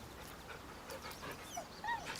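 A dog whimpers and pants softly in Baldur's Gate 3, faint short whines and breathy panting over a low game-ambience bed, with no talking.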